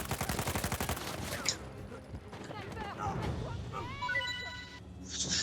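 Bursts of gunfire in the video game Uncharted 4, rapid shots and a fusillade under game dialogue and music, with a voice speaking over the action.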